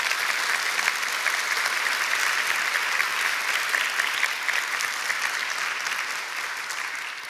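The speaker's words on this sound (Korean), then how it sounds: "여러분들 주변 분들에게 박수를 한번 쳐주실래요?" A lecture audience bursts into warm, steady applause that stays full and even for several seconds, then slowly fades toward the end.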